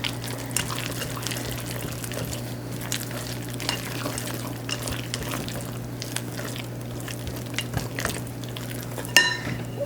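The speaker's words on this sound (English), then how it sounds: "let's just stir those chocolate chips throughout the batter here" A spoon stirs chocolate chips through thick pistachio cake batter in a bowl, making soft, wet squishing and scraping strokes close up over a steady low background hum, with no speech.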